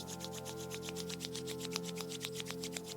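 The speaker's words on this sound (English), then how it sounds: "rub your hands and create some heat with your hands" Palms rubbed briskly together to build warmth during a gentle yoga session, a quick run of rhythmic rasping strokes that repeats steadily for a few seconds over a soft, steady tonal background.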